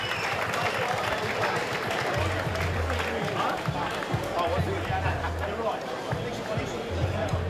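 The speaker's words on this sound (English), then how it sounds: "Give Kris a round of applause, please." Crowd applause and cheering at a SuperFight fight event for fighter Kris Ustijanovski, a steady, moderately distant roar of clapping and chatter under a loud announcer's voice.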